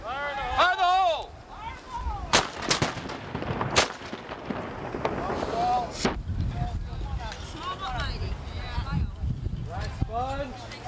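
A muzzle-loading cannon crew drill produces several sharp, booming blasts spread across the clip, mixed with shouted commands and voices talking between shots.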